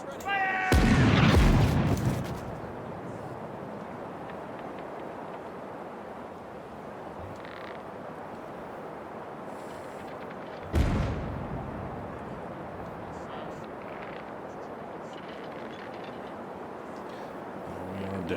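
A broadside of ship cannons fires in the Caribbean Legend naval game: a heavy rumbling volley of booms near the start, a second loud blast later, with ocean and ambient noise between.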